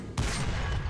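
Aircraft machine gun in War Thunder air battles firing a dense, continuous burst that kicks in sharply after a brief lull and stays loud and steady to the end, with no talking.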